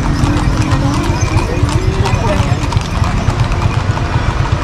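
Horses' hooves clip-clop steadily on the street in the Marrakech medina, a busy rhythmic clatter amid loud crowd and traffic noise, with motorbike engines and voices mixed in.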